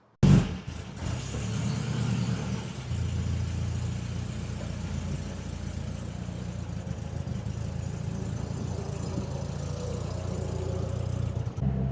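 A Triumph TR2 sports car engine hums steadily as it drives along the road, a constant low rumble with no voices.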